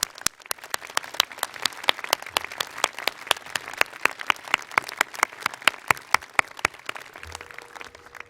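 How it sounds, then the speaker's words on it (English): A large audience applauds at a Williams College commencement ceremony in 2019, a sustained, loud, steady wash of many hands clapping with sharp individual claps standing out throughout. "Could we all just give them another big round of applause?"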